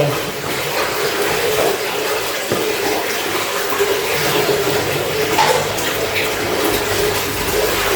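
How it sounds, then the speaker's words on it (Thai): Sugar syrup pours steadily into a pan for candied bananas, a continuous, close, liquid rushing that stays at an even level for the whole stretch. "ใส่น้ำเชื่อมค่ะ ใส่น้ำเชื่อมลงไป"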